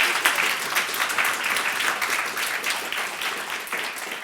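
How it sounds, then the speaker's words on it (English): Audience applause at a political conference event on a secure and democratic union, steady dense clapping from a crowd that holds evenly throughout without speech. "please applaud and encourage her to this next month"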